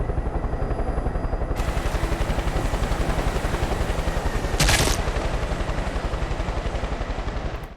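Helicopter in the video game Far Cry 5, a loud continuous rhythmic rotor chop with a brief sharp burst partway through.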